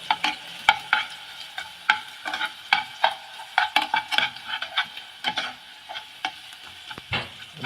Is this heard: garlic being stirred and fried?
yes